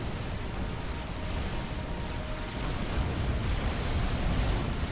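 Artillery fire and explosions in Supreme Commander: Forged Alliance, a steady, rumbling wash of overlapping distant blasts and booms with no distinct pauses, dense and fairly loud throughout.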